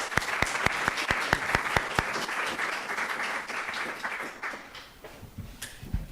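A lecture audience breaks into steady applause to welcome the speaker, with many hands clapping together. A few sharp, evenly spaced claps stand out early, and the clapping thins out toward the end.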